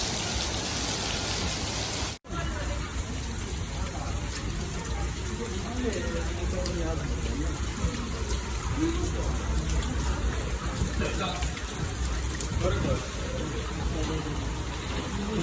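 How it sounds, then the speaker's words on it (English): Heavy rain pouring down in a dense, continuous hiss close by, with faint voices under the downpour. "It started raining, y'all. It is pouring."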